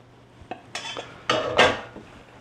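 A metal pan holding a ham is slid back into a hot oven at about 450 degrees, with a few sharp clanks and scraping knocks of metal on the rack, close and loud, with no talking.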